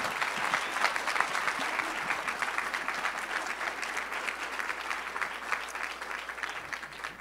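Sustained audience applause fills a school board meeting room, a dense, steady clatter of many hands clapping throughout with no voices on top.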